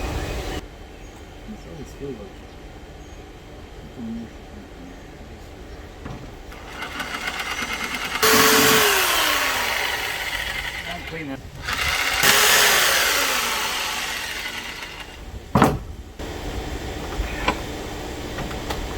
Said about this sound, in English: But I think I'll have more control with the jigsaw to make a nicer cut.